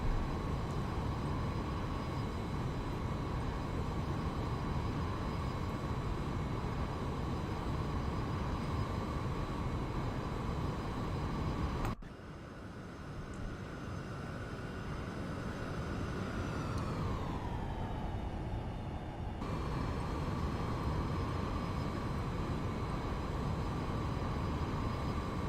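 Airliner jet engines drone steadily through a climb-out in a flight simulator game, a loud continuous whine with a smooth downward pitch shift as thrust is dialed back.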